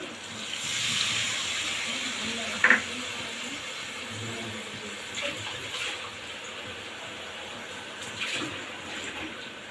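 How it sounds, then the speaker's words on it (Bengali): Water is poured into a hilsa fish curry in a cooking pan, making a soft, steady hissing splash that continues throughout, fairly faint, with a brief clink partway. "এবার আমি এতে জল অ্যাড করবো"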